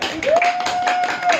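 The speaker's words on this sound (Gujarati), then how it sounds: "તાળી વગાડો બધા" A few hand claps at home during a baby's garba and dandiya play, scattered unevenly beneath a steady high sustained tone and some voice sound.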